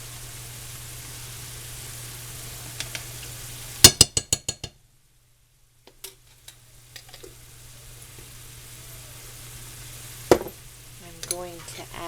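Beef and vegetables being stir-fried with oyster sauce: a quick burst of rapid clinks and scrapes of a utensil against the pan, then a short silence, followed by scattered knocks and a soft sizzle over a low hum.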